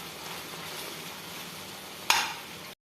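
A pan of instant pickle mixture with chili powder and ground roasted fenugreek and mustard sizzles and is stirred, a steady close frying hiss ending in a louder scrape near the finish, then silence.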